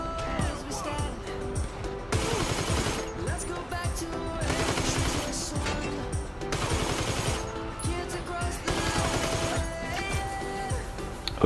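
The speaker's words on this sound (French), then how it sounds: "Alors, attendez, parce qu'il y a des gens qui me tirent dessus." Gunfire in the video game GTA 5 keeps up almost without a break: bursts of automatic fire and rattling shots stack up over game sounds and music, loud and near throughout.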